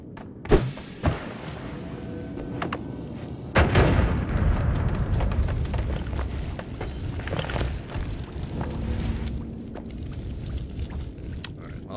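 A bomb going off in the Noita video game, a single heavy booming blast followed by a sustained rumbling, crackling roar that trails on for several seconds, with a smaller thump just before it.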